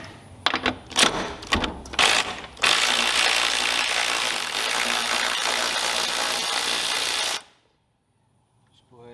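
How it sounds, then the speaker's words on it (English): Mechanic's ratchet working a pulley nut loose on a John Deere LA100 riding mower's deck, a burst of rapid clicking and clacks followed by a long steady mechanical whirring that cuts off abruptly. "we're going to go ahead and break loose this nut that holds this pulley"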